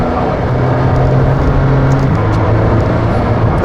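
A McLaren Senna with an 800 hp engine pulls hard under acceleration, a loud, steady, deep engine roar that holds close and continuous with a slight shift in pitch partway through.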